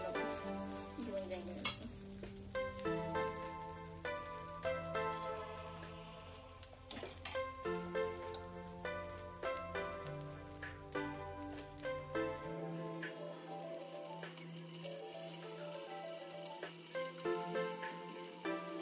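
Rice for pulao sizzles and crackles as it fries in a pot, a steady frying hiss with scraping stirs, fairly quiet and close, no talking.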